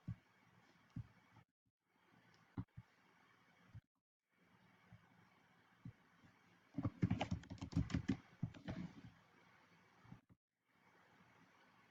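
Typing on a computer keyboard at a desk, heard as sparse isolated key clicks at first, then a dense burst of rapid keystrokes in the middle before slowing again; fairly quiet and close, with no talking.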